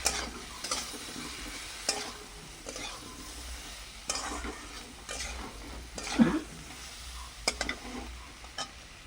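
Spices stirred into a frying pan of pakal fish and potato with salt and turmeric: a soft, low sizzle under intermittent scrapes and clinks of a utensil against the pan, with a few louder knocks.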